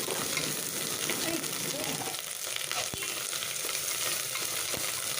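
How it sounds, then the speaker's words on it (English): A pan sizzles steadily as ginger and garlic fry, a constant crackling hiss with occasional sharper pops, close by and without speech. "have pulsed 1 teaspoon of ginger garlic and a little extra of ginger, less of garlic. Fry that too very well."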